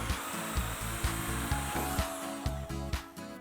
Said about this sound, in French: Nous allons maintenant pouvoir percer le trou d'envol à l'aide de la scie cloche.